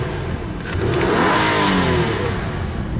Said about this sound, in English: We'll go ahead and rev it up a couple times.